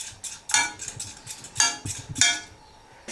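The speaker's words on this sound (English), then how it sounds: "So keep mixing." Utensil scraping and clinking against a pot or bowl while stirring a thickening, white-sauce-like mixture for pressed flowers, in repeated close bursts with short pauses between strokes.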